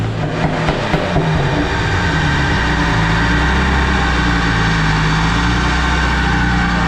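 A Nissan Stagea running on a dyno at about 18 pounds of boost, a loud sustained engine roar at high revs, steady and continuous throughout with no talking.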